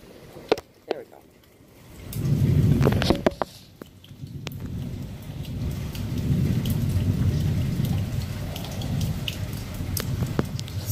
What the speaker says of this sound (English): and enjoy this thunderstorm